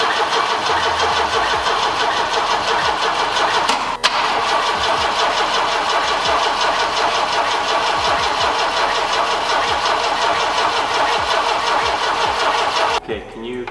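An old car engine is cranked over continuously by its starter without catching, a steady loud churning rhythm lasting throughout, with a brief click near the middle before it cuts off at the end; no spark reaching the plugs.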